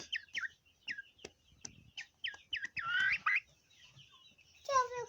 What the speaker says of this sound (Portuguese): João, agora eu tenho duas galinhas botando aqui, tá vendo?